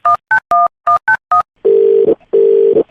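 A short burst of keypad dialing beeps, then a steady telephone dial tone sounding twice in long, loud pulses with a brief gap between.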